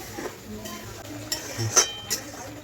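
A spoon clinks and scrapes against a pan as spice paste is stirred into catla fish curry with green chilli and mustard paste, giving a few sparse metallic taps and soft scraping at close range over a quiet background.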